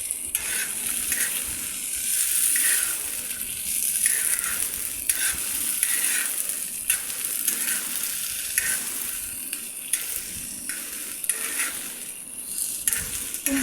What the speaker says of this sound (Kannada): ಈ ಮೂರನ್ನು ಚೆನ್ನಾಗಿ ಫ್ರೈ ಮಾಡಬೇಕು.